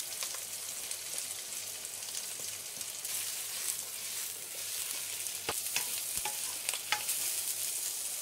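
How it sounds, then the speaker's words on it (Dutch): Onions, red pepper, the lower ends of spring onions and carrot stir-fried for Kung Pao chicken, giving a soft, steady crackle of frying with scattered clicks from stirring, fairly quiet and without talk. "Ik doe eerst de uien in, rode peper en de onderste stukje van de bosui."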